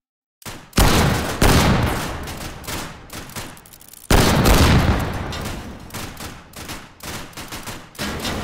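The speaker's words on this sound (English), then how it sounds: "They seem to be trying to shoot me from everywhere." Dense gunfire from enemy bots in an arena battle in the VR shooter H3VR, two loud bursts of overlapping shots and booms, each rolling on then tapering into scattered reports.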